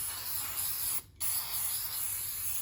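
A can of clear acrylic sealer hisses steadily as it sprays over dominoes spread out on a surface. The hiss stops briefly, then resumes and runs evenly to the end.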